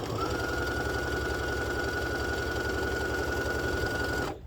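A sewing machine runs steadily through fabric for a spa headband's bow piece, a continuous close mechanical hum with a high whine, stitching from a folded edge before stopping abruptly at the end.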